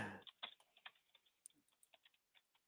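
Quiet, rapid, irregular clicks come from a computer keyboard and mouse at a desk during a stock trading session, with no voices.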